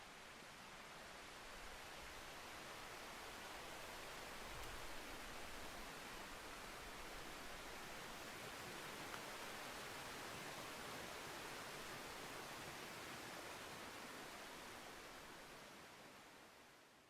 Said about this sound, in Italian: Verso la cascata probabilmente, perché non sapevo ci fosse, però sento dell'acqua.